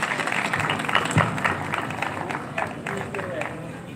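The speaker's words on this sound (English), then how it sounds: "Applause here." Scattered, fairly faint applause from a small group of athletes at an outdoor competition briefing, uneven individual claps.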